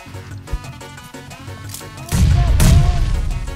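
A grenade or bomb blast in PUBG Mobile: light gunfire and game sounds first, then a sudden loud, booming explosion that rolls on for over a second near the end.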